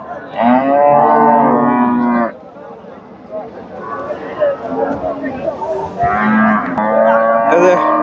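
A Friesian dairy cow at a Bangladeshi cattle market gives two loud, drawn-out moos close by, separated by a stretch of busy market background noise.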